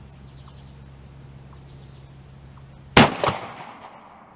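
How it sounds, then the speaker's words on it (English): A single sharp, loud muzzleloader rifle shot, a CVA Accura LRX .45 loaded with 70 grains of powder, fired outdoors. It cracks suddenly after quiet insect hum and leaves a short echoing tail. "So first shot with 70 grains."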